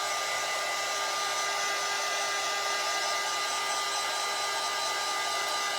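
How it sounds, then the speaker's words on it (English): A hair dryer blows steadily to dry a coat of paint on a craft project, a loud continuous whirring hiss that runs unbroken with no talking. "So let's dry our first coat. Y'all, I keep calling this an iron. My dryer is having issues."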